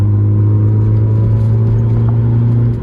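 Lowered 100 hp Honda Civic pulling hard in third gear, a steady droning engine note with a strong low hum from inside the car, loud and continuous.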